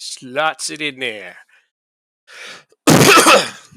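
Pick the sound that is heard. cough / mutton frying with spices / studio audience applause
cough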